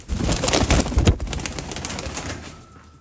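Bukhara pigeons coo steadily and fairly loudly inside a loft belonging to Turks in Kardzhali, Bulgaria, with overlapping calls and some wing rustling, fading slightly toward the end.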